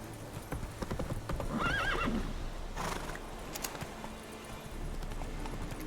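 Hooves clip-clop at a steady gallop from a horse in The Witcher 3 game, joined by a brief whinny, with a continuous game soundscape underneath.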